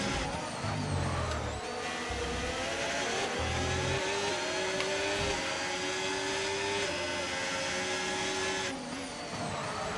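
F1 race car engine from a racing video game, a steady high-pitched whine holding nearly constant through ten seconds, with small pitch shifts and a low rumble underneath.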